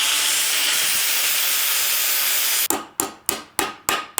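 Slag is chipped off plasma-cut steel with about half a dozen sharp, close, ringing strikes in a quick, uneven rhythm, following a stretch of steady hissing noise.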